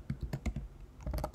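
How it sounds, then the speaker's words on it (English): Quick bursts of typing on a computer keyboard while coding a game script, with a steady run of close, crisp key clicks, a brief pause in the middle, and a denser flurry of keystrokes at the end. "I am terrible at typing"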